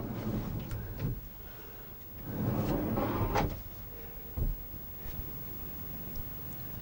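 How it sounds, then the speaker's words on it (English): Wooden drawer boxes slide in and out on runners in a handmade two-drawer cabinet, giving a few soft rolling swooshes and light knocks, quiet and close, with no talking. "we can add our drawer boxes into the mix, making sure the runner clips fully engage and that the drawers still run nice and smoothly."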